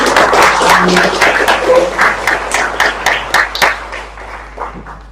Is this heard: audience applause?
yes